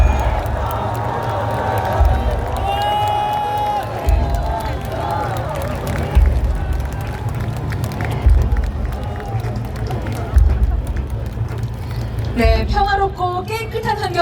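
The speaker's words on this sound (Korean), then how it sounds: "여러분 다시 한번 큰 박수를 부탁드리겠습니다" An outdoor crowd at a campaign rally claps and cheers for a child, producing a broad, sustained wash of applause and voices with periodic low thumps underneath and scattered shouts near the end.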